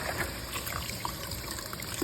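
Cold water runs steadily from a tap while meat is washed in a kitchen, a brief, even, close trickle with no talk over it.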